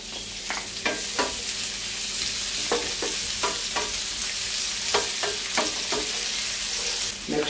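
Garlic followed by onion sautéing in olive oil for ginisang repolyo, a steady close sizzle broken by repeated sharp stirring scrapes, with no talking.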